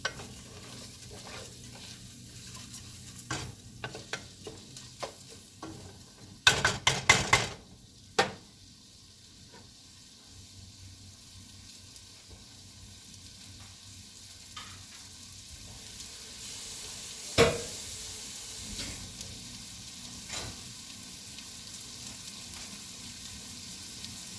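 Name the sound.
stirring rice browning in a pan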